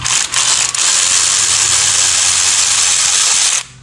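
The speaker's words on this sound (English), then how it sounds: "cordless ratchet, brushless motor and everything" A cordless brushless ratchet spins a bolt loose under a vehicle, its motor whirring loudly and steadily for several seconds with two brief stutters near the start before cutting off.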